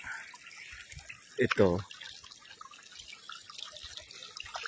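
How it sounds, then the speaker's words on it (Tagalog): Warm water from a hot spring mud pool runs into a fresh river outdoors, making a steady light trickle and splash, with a brief spoken word partway through. "ito galing to doon. Punta dito sa ilog"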